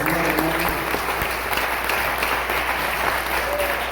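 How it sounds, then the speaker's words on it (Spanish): A church congregation gives a steady round of applause. The clapping is dense and sustained, with no break for the full length. "Demos fuertes aplausos al Señor, hermano."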